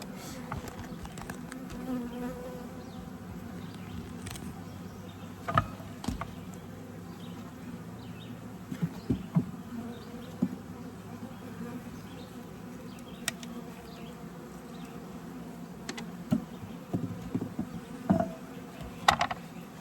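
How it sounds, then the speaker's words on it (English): Honey bees buzz steadily at close range while being moved from a Layens swarm trap, a continuous droning hum broken by brief bumps and taps, with no voices. "I just got to get the rest of the bees out of this one."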